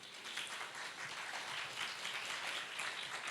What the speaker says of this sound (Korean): 나오실 때 큰 박수로 환영해 주세요.